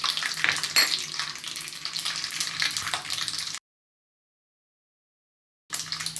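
Fenugreek seeds frying in hot oil with mustard seeds in a pan for a pickle, giving a steady loud sizzle that cuts off into silence, then resumes briefly.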